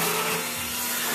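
Vacuum cleaner with a slipped bag filter running indoors for cleanup during stone carving work, a steady loud whine and roar filling the whole clip with no talk.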